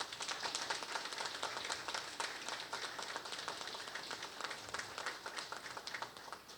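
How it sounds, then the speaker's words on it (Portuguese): Quiet, continuous clapping from a seated audience at a centenary tribute ceremony, many hands blending into an even patter with some distinct claps near the end. "recebam nossa calorosa saudação de palmas"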